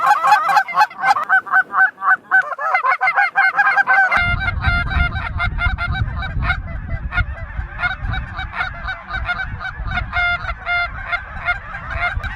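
Geese honk repeatedly and loudly in an outdoor field in Kansas, a rapid overlapping chorus of calls that continues as low wind or engine rumble joins partway through.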